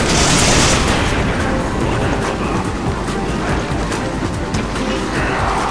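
Rocket launcher explosions in the video game Resident Evil 5 Mercenaries mode, a dense continuous wash of booming blasts and gunfire-like bursts filling the whole stretch at steady high loudness, with no clear gaps between impacts.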